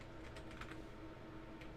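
A few quick, light keystrokes tapped on a computer keyboard, faint and brief over a low steady hum, with no talking.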